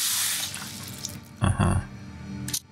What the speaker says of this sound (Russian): А здесь, наверное, обычный кран.